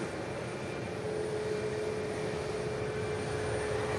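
A Helvetic airliner departing toward Milan gives a steady distant jet roar with a faint whine, heard from afar and holding at an even level throughout.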